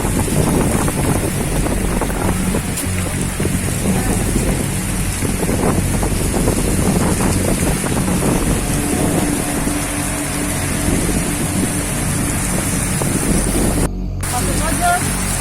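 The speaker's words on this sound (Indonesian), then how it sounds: "Angin sangat kencang sekali ternyata di sini." Strong wind roars continuously during a heavy rainstorm in Tangerang, a dense, loud rush with buffeting against the microphone and a brief dropout near the end.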